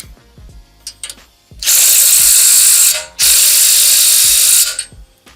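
Hand ratchet clicking on a 21mm deep socket while tightening a suspension bolt on a 2023 Chevrolet Silverado ZR2, with crisp close-up clicks interrupted by two long, loud rushing bursts of noise.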